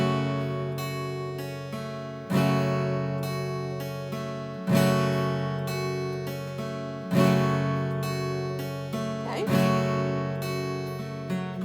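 Guitar strums full chords in a steady pattern, a strong downstroke every couple of seconds followed by lighter upstrokes, ringing clearly with no voices.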